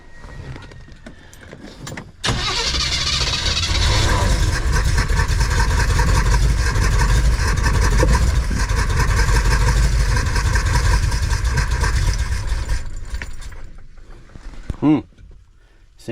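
A broken-down van engine cranked and fired up after a failed start: a sudden loud catch, then a steady, rough running roar close by for about ten seconds before shutting off, with faint clicks around it.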